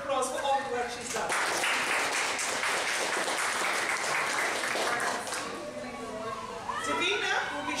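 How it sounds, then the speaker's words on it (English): A church health expo audience claps for a chef, with the applause swelling after a brief spoken introduction, holding steady, then tapering as voices and chatter return near the end. "We just give her a round of applause for all the work she's done."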